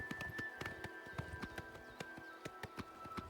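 Horse hooves clop in a steady trotting rhythm in the video game Oblivion, crisp and regular, over a faint steady hum.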